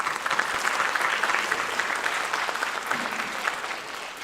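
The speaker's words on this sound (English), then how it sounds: "Let us applaud for her today's Rangapravesam." A crowd applauds a Kuchipudi dancer at her Rangapravesam debut, a steady even roar of many clapping hands at moderate loudness, continuing without any speech.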